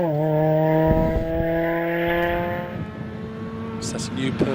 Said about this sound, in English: Steve Clay in the MX-5 through Farmhouse Bend